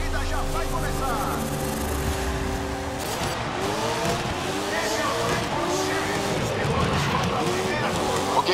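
A Brabham BT62 supercar idles and revs at the start of a race at Sydney Park in GRID on PS4, engine droning steadily then climbing in pitch as the pack pulls away, loud and continuous with a voice talking over it.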